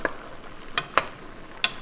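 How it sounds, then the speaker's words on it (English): Food bubbling in a pot while being stirred: a quiet, steady simmer with a few sharp scraping or clinking strokes from a spoon spaced irregularly, with no talking. "Let me give this a stir. Starting to bubble."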